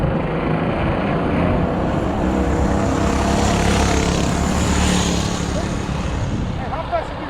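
Motorized bicycles passing by on a Friday night ride, a rising and fading engine drone approaching and moving past, with people talking over it.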